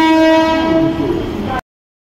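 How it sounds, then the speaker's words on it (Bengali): A pink local train bound for Bardhaman arrives at the large Bandel station, sounding a loud, sustained horn blast over rumbling that cuts off abruptly after about a second and a half. "তো আমাদের বর্ধমান যাওয়ার ট্রেন হচ্ছে চলে এসেছে।"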